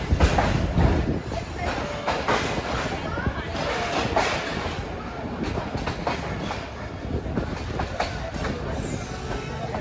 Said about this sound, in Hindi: तो मिट्टी उड़ाता हुआ ZCU30 और पूरी रेलगाड़ी